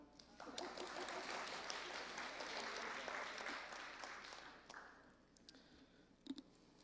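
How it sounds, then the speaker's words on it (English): An audience at a 2019 school board candidate forum claps for several seconds, a dense faint patter that swells and then thins out to a few scattered claps. "Y'all ain't gonna clap?"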